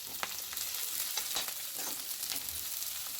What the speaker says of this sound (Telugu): హోల్ గరం మసాలా వేసుకొని వేయించుకోవాలి.